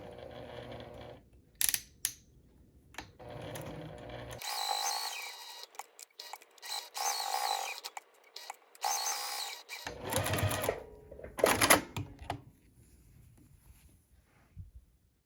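A sewing machine backstitches the seam of a mini tote bag ornament, in several short bursts of whirring separated by clicks and pauses, one longer run in the middle.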